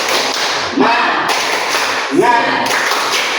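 A school class doing the tepuk semangat clap chant, two bursts of loud group clapping and thuds about a second and a half apart, with voices mixed in.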